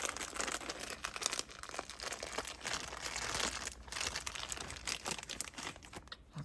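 Plastic packaging around a flocked Demon Slayer Chuntaro fluffy puffy figure is cut and pulled open, giving steady crinkling and crackling with a few tearing rustles, close and fairly loud throughout.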